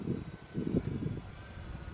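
An Eflite Cirrus SR22 RC model airplane flying slowly overhead on a sunny day, its electric motor a soft, low hum that swells and fades with gusts of wind noise.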